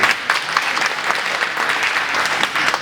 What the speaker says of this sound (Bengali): আমার জন্য একটা করতালি হতে পারে না।